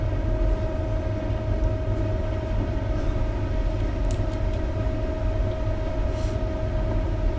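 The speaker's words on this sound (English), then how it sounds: "We are driving really, really slowly in the train, that's for sure." A slow-moving train in the video game Train Simulator 2017 rumbles along with a steady low drone and a constant engine tone, broken by a few brief high squeals of the wheels, loud and with no talk.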